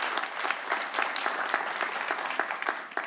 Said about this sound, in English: Can we just give them a round of applause for the leadership at Washington State University